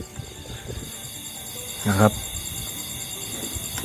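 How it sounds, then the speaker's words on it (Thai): Crickets chirp in a steady, continuous high trill outdoors behind a house at night, with someone talking briefly over the constant chorus and a short thump partway through. "เขียดเสียงจิ้งหรีดร้องนะครับ"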